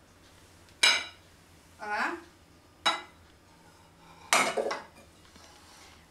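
Ceramic plates clinking and knocking together as a hot corn cake is flipped from one plate onto another, several sharp clattering bursts with gaps between, close and clear, with a brief spoken exclamation.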